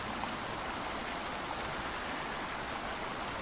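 A waterfall in the video game A Quiet Place gives a dense, steady hiss of falling water, fairly quiet and unchanging, with no other sounds or voices.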